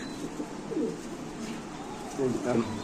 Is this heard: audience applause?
no